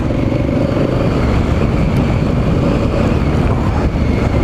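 Honda Africa Twin adventure motorcycle riding a sandy trail, a loud continuous engine roar buried in heavy wind buffeting on the microphone, with no voices.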